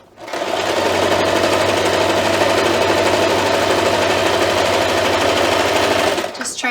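A sewing machine stitches steadily through an oven mitt, fabric smoothed along as it runs, its motor humming at an even, close, continuous pace for several seconds before stopping at the very end.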